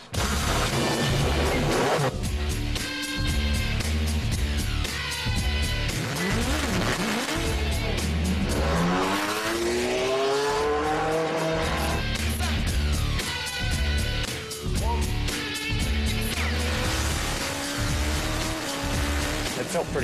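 An Acura LMP prototype race car on a wet track, its engine loud and close as it revs up and down in sweeping gear changes, with tire hiss and squeal and voices talking over the steady roar.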